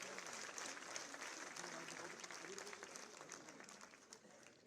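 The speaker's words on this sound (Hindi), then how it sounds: "जोरदार तालियों से अभिनंदन करें" A crowd at an Indian trade festival's inaugural session claps to welcome minister Smriti Irani, sustained dense applause that slowly thins toward the end, faint voices mixed in underneath.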